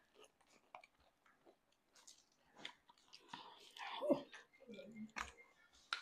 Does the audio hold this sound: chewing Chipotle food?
yes